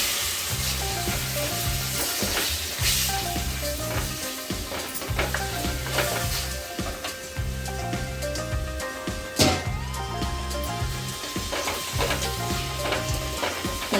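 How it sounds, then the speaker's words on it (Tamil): Half a kilo of cleaned chicken hits a pan of onion-tomato gravy for Chettinad chicken, sizzling and frying loudly while a spoon stirs and scrapes, with occasional clanks of utensils against the pot. "இந்த ஸ்டேஜில் வந்து நம்ம க்ளீன் பண்ணி வச்சுருக்க 1/2 kg சிக்கனை வந்து இதோட ஆட் பண்ணிக்கலாம்."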